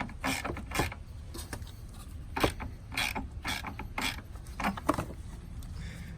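A ratchet wrench tightens the hold-down clamp on a modern car battery, giving repeated close clicking strokes in irregular bursts with no talking.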